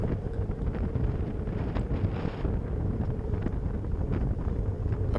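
Headwind during a road bicycle race, a steady broadband wind roar buffeting the microphone continuously, loud and close, with faint rushing and rumble underneath.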